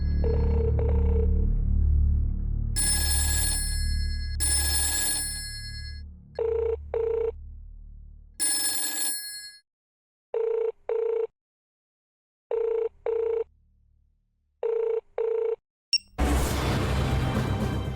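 A telephone rings in repeated bursts, starting with a long electronic trill and then short double rings separated by silence, loud and close.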